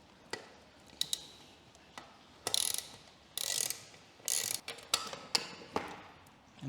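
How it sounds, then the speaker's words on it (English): Hex key working a bolt loose on an Aprilia Tuono motorcycle during a strip-down, giving a series of sharp ratcheting clicks and metallic ticks in irregular bursts, close and fairly quiet, with no talk. "let me just get a hex key."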